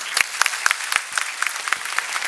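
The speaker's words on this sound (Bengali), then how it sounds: "আমি এই মুহূর্তে বাংলাদেশ কালিনারি ফাউন্ডেশনের জন্য সবার কাছ থেকে জোরে করতালি চাইছি" An audience applauding at an indoor World Chest Day ceremony, a short burst of brisk, dense clapping from a crowd, fairly close and lively.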